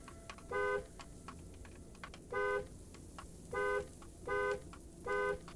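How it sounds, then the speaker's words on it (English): Car horn honking in the Cataclysm: DDA game, five evenly spaced loud beeps with short pauses between them, played over a steady background hum with faint clicks. "Let's do a beep beep."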